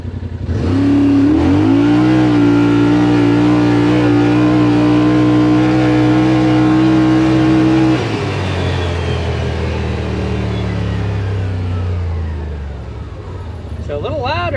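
A Yamaha Rmax 1000 UTV fitted with a performance muffler revs hard under acceleration, heard from inside the cab as a loud, steady engine drone that climbs, holds, then drops off after about eight seconds and winds down.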